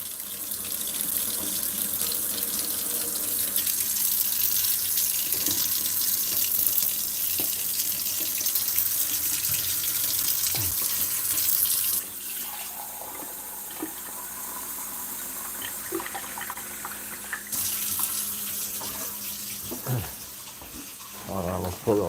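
Water runs steadily from a tap for a long stretch, a broad hiss that shifts in tone partway through as the flow changes, with faint voices now and then.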